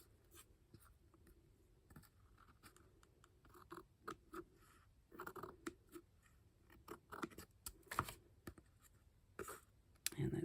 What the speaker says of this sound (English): do I want to cut it with scissors right now?